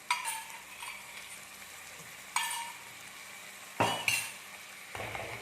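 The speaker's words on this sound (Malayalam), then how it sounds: "ഈ ചെമ്മീനും ഇതിൽ കിടന്നിട്ട് നല്ലപോലെ ഒന്ന് ആയി വരട്ടെ." Prawns frying in a pan, with soft sizzling under intermittent scraping and stirring strokes from a utensil, several sharp clanks of metal against the pan, all close and fairly quiet.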